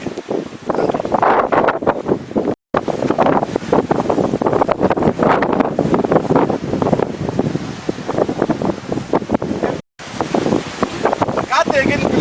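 Strong wind gusts buffet the microphone on a mountain pilgrimage trail up Velliangiri, a loud continuous roar broken by two brief dropouts.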